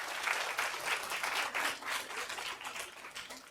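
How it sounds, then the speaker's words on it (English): An audience at a legal forum on drug traps applauds the speakers, with steady, even clapping from a mid-sized crowd that is moderately loud throughout and has no talking over it. "Shall we give them a big round of applause again?"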